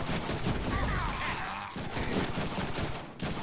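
Rapid pistol gunfire in the Deadpool video game, dense overlapping shots in a steady barrage with game sound effects and a voice talking underneath.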